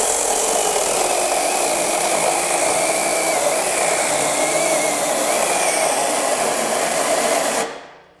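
DEWALT 8-inch cordless pruning saw powered by a 5Ah PowerStack battery runs with a loud, continuous high-pitched whine that holds steady for about seven seconds, then spins down abruptly at the end.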